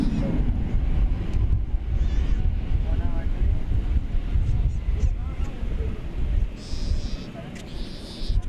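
Breeze gusting at Founders Plaza beside DFW Airport on a late Saturday afternoon, a steady loud low rumble of wind buffeting the microphone throughout with brief higher hiss bursts.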